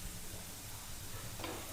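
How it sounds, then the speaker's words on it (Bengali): Potatoes fry in a pan with a soft, steady hiss of sizzling oil, faint and close, with a slight swell near the end. "এই দেখুন, আলুগুলো ভাজা হয়ে গেছে বেশ ভালোই।"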